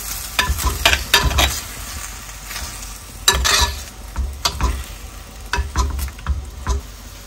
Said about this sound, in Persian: یکم مخلوطش میکنیم.